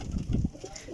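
A slate Ferozpuri pigeon coos in short, soft low pulses, with a few rounded calls bunched near the start and quieter murmurs trailing off, close by with faint background noise.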